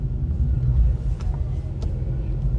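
A stock BMW 335i at the drag strip idles at the line with a loud, steady low engine rumble and no clear revving burst, while a voice talks briefly.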